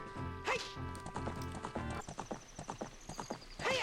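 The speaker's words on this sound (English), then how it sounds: "So we approach Lake Hylia on our trusty steed" A horse in The Legend of Zelda: Ocarina of Time trots toward Lake Hylia, its clip-clopping hooves steady under game music, with a sharp whinny at the start and another near the end.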